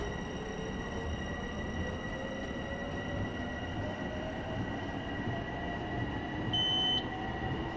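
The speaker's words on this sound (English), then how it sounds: "The train does sound pretty good." Long Island Rail Road train running in Train Simulator Classic, with a steady rumbling roll and wheel noise throughout, constant tonal hums above, and a brief high beep or tone near the end.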